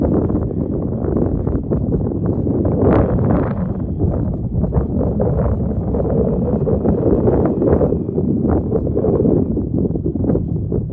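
Strong wind roars steadily ahead of a supercell thunderstorm, a dense rushing noise buffeting the microphone with no pauses.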